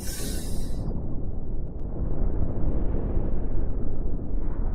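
Missile explosions from the space-combat game Cosmoteer roll out as a dense, continuous rumbling barrage, loud and steady for several seconds after an opening burst of hiss.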